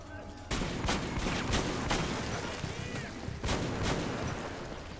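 Gunfire in the video game Metro 2033, a dense run of sharp shots and bursts coming in clusters, fairly loud against a steady background din, with no talk.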